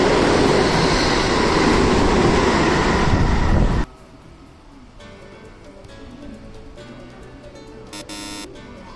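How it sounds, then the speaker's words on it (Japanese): A Shinkaisoku rapid train roars through a station at speed, a loud, dense rush of wheels and wind filling the first few seconds before cutting off abruptly to quieter platform ambience. "新快速が通過したようですが、"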